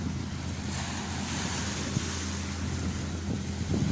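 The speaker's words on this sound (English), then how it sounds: "I believe that's the sound of the hovercraft" A hovercraft moving in the fog at Southsea comes across as a continuous low, rumbling roar mixed with wind and surf noise, steady and fairly distant.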